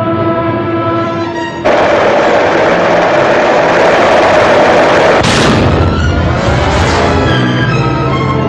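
Spitfire fighters fire their eight wing guns in WWII combat footage, a dense roar of engine and rapid gunfire with a loud burst near the middle, continuous and close.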